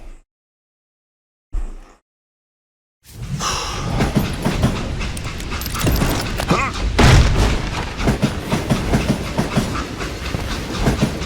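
A rickety express train car rattles along in the Western shooter Call of Juarez: Gunslinger, a loud continuous rumble and clatter starting after a few seconds of near silence and brief blips, with heavy low thumps partway through.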